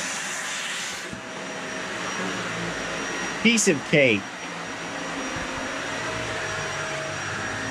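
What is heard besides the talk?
full-size vacuum cleaner running on GOLDENMATE Orion 1000 battery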